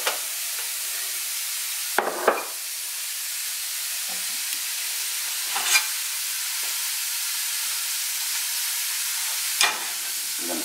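Sauce cooks in a side pan with a steady, broad hissing sizzle throughout, broken by a few brief clinks and scrapes of a utensil, close and even.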